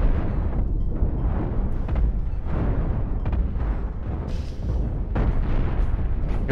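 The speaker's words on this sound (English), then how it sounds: "Lasers are still firing, disruptors are back to firing" Spaceship lasers and disruptors firing in the space combat game Cosmoteer, a loud continuous barrage of rumbling booms and crackling bursts with repeated sharper blasts, dense and unbroken, with no talking.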